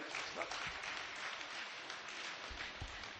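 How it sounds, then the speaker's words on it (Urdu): Audience at a mushaira in Firozabad breaks into steady, dense applause that fills the hall evenly for the whole stretch, heard at a moderate distance with no voice over it. "مہمانوں کے استقبال میں ایک بار زوردار تالیاں بجا دیں"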